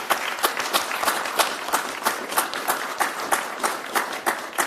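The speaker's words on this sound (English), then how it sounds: "Give you a round of applause." An audience applauds after a lecture on Paul Revere at a Scottish Rite Masonic museum, a sustained patter of many hands with a faint rhythmic pulse, fairly close and continuous throughout.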